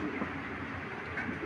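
Several pigeons coo in a low continuous murmur, moderately close, with a faint soft chirp partway through and no talking.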